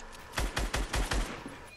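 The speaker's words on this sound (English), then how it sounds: "Oh, who's shooting me?" Video game gunfire: a quick burst of about six sharp shots in rapid succession, fairly faint and heard alone.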